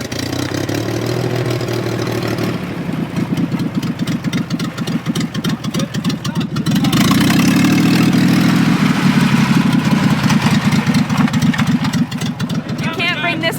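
A Chevrolet Corvair engine running with no mufflers gives a loud, raw, throaty idle that swells into a harder, rougher rev partway through and stays close and continuous.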